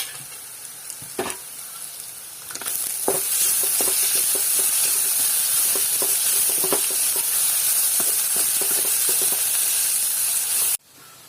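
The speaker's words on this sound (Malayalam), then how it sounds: "ഇനി നമുക്കിതിലേക്ക് വെളുത്തുള്ളി, ഇഞ്ചി, ചപ്പും പുതിന, പച്ചമുളക് ചതച്ചത് ഇതെല്ലാം കൂടെ നമുക്ക് ഒന്ന് വാട്ടിയെടുക്കാം." Crushed garlic, ginger, mint and green chilies sauté in hot oil in a pan for a chicken dish, giving a loud, continuous sizzling hiss close by with light scraping of stirring, then cutting off abruptly at the end.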